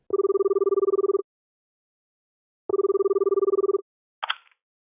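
A telephone rings twice at the start of a call to an operator, each long electronic trill followed by a gap, then a short click as the line picks up.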